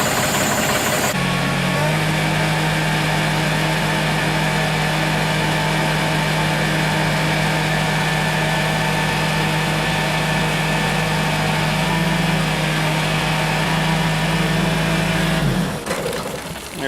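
An engine-driven compressor runs steadily at a constant idle-like drone while pressurizing tanks for blowing out water lines, loud and close, starting abruptly and cutting off near the end.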